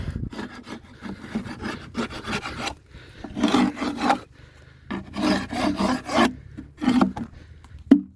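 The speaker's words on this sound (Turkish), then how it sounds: "Şöyle petek kırıntılarını kazıdıktan sonra kovanın yan, yan yanaklarını kazıyorum." Scraping the inner side walls of an old wooden beehive after clearing comb crumbs, repeated rasping strokes in uneven bursts, close and loud, with no talking.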